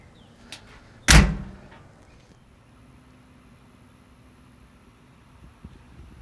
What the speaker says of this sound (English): We're going to close the doors.